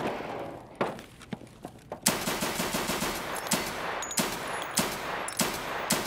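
Gunfire from an FN 5-7 pistol in the shooter game Escape from Tarkov: a few scattered shots at first, then several sharp, loud reports in quick succession over a steady ambient background, with no talking.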